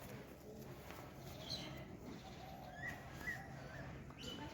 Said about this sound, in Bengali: দেশি পায়রা, দেশি দেশি গিরিবাজ।